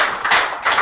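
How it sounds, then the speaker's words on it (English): Audience clapping at a Nigerian health report launch, a steady, dense wash of applause swelling twice in under a second. "Let's make the applause louder."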